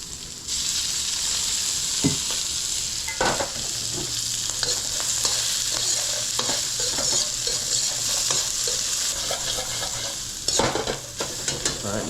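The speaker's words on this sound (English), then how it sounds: "Now we're gonna toss in our sichuan peppercorns and our chilies." Sichuan peppercorns and dried chilies stir-frying in hot oil for Kung Pao tofu, a steady loud sizzle broken by repeated scraping stirs and occasional clinks of the pan, close and continuous with no talking.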